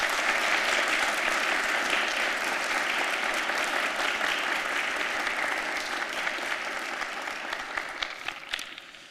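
Sustained, loud applause from the audience at a BC Achievement Reconciliation Award presentation ceremony, a dense wash of clapping that tapers slightly toward the end.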